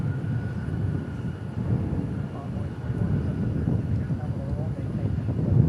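An airliner arriving at DFW International Airport gives a low, steady roar with some wind noise, and a voice talks over it at moderate level.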